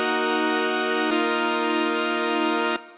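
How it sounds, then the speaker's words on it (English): Buzzy saw wave synth chords built in FL Studio, two sustained chords with a sharp change near the midpoint, loud and bright, cutting off abruptly at the end. "all we need is a saw wave and a simple chord progression just like this"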